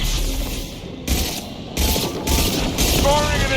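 Impact shot gunfire from the Mass Effect video game, several loud broadband blasts and bursts spaced across a few seconds, with sci-fi effects layered between them.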